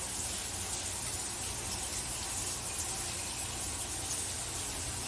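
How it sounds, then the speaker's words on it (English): Water streams steadily from a shower head during a home inspection, a continuous broadband hiss of spray that stays even and fairly close for the whole stretch, with no voices over it. "And just really just testing the shower head."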